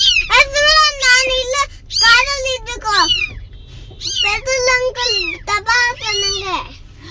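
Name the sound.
kitten meowing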